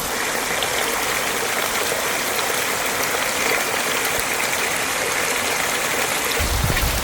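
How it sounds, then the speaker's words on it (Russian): A small waterfall beside a hiking trail on Madeira gives a steady, close rush of falling water that stays constant and unbroken throughout, with no voices. "О, еще один водопад."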